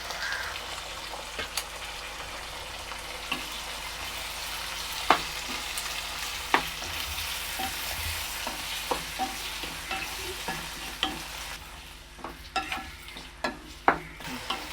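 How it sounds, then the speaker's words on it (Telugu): Tomatoes and lentils sizzle gently in a pan, with a steady low frying hiss broken by sharp scrapes and taps of a spoon stirring, some in quick bursts toward the end. "టమాటా పచ్చి వాసన పోయేంత వరకు ఫ్రై చేసుకొని"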